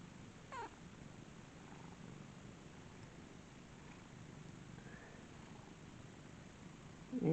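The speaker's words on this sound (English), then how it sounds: "And she's purring up a storm." A cat purrs steadily right against the microphone in a continuous, soft, low rumble. The purring stays quiet, with a brief shuffle near the start and a bump at the end.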